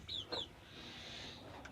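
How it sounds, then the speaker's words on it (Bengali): Native chickens on a small farm give a couple of short, bright clucks near the start, then a steady low farmyard background fills the rest of the brief moment. "তো এই হচ্ছে দেশি মুরগির অবস্থা আমার খামারের"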